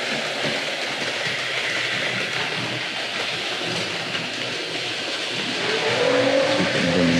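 Hornby Dublo model train running on a track with maroon suburban coaches, a steady whirring rumble with rail clatter that grows slightly louder near the end.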